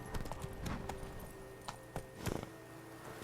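Horse hooves clip-clopping in The Witcher 3: Blood and Wine video game, an irregular series of hard, close hoof strikes slowing to a few final steps, fairly faint.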